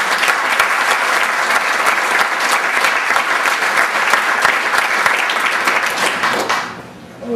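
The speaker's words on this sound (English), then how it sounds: "Nice round of applause for her." A banquet audience at a senior sports awards night claps in a steady, dense round of applause that stays loud and even for several seconds, then quickly dies away near the end.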